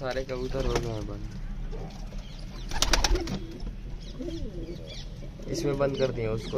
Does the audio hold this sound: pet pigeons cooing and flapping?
yes